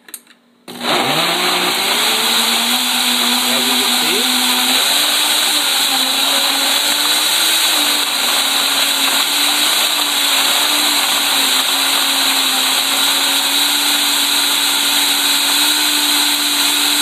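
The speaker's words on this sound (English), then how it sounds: "it takes a second for it all to kind of blend up in the blender" Health Master blender mixing an Isotonex meal replacement shake: switched on with a sharp start, the motor rises quickly to a loud, steady, high-pitched whir that holds unchanged for many seconds, close and with no talk over it.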